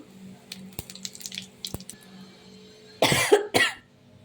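Bay leaves and cumin seeds drop into hot oil for a Bengali country chicken curry and give two short, loud bursts of sizzling after faint kitchen clatter and a cough.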